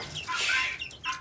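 A hen clucks in a short, close run of sharp calls at a bird market in Pakistan, with faint market background underneath.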